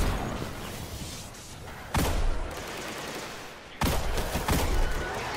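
Gunfire in the Destiny 2 video game, sustained loud shooting with two heavy blasts breaking in, one near the two-second mark and one near four seconds, no talk.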